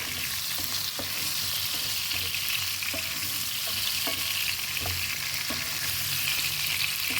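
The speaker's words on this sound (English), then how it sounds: "So I added my tomatoes. Then I'll cover for the tomatoes to cook." Tomatoes cook in a pan for a spicy bean stew, giving a steady, moderately loud sizzle with faint scattered clicks of utensils against the pan, and no talk.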